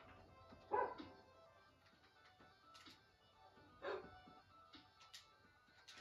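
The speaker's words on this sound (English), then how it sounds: "I can't concentrate when he barks out there" A dog barks outdoors at a distance, a few faint, separate barks spread over several seconds against a quiet background.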